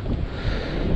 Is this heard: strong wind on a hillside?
yes